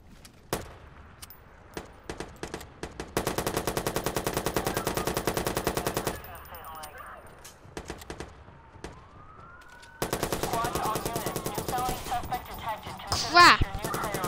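Video game gunfire in Watch Dogs, with long sustained bursts of rapid automatic fire broken by brief gaps, police sirens wailing underneath and people talking over the action.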